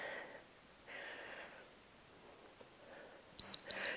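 A workout timer gives two short, sharp electronic beeps at the end of an exercise interval, following quieter breathy sounds of a home fitness session.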